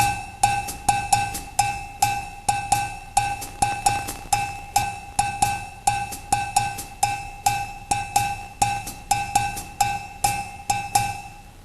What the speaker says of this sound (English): let's look at the very typical 6/8 bell pattern.